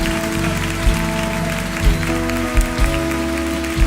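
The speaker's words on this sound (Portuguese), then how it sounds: "Dá uma salva de palmas" A congregation claps during a church service over sustained music, with a few sharper clap bursts standing out against the steady instrumental backing.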